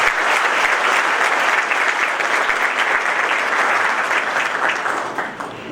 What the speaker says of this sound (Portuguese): Vamos aplaudir os nossos palestrantes.